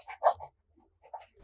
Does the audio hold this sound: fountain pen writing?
yes